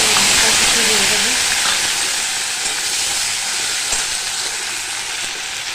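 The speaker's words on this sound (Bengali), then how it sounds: "এবার তেলের মধ্যে কাঁচা পেঁয়াজ আর লঙ্কা কিছু দিয়ে দেবো।" Raw onion and chili frying in hot oil, giving a loud, steady, broadband sizzling hiss that eases slightly over several seconds, with a faint voice in the background.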